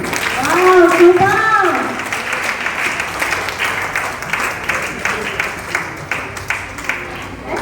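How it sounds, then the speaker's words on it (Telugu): Audience applause at a wellness-center leaders' recognition event, a burst of clapping that starts strong and thins into scattered claps, with a voice speaking over it early on. "బిగిన క్లాప్స్ అండి."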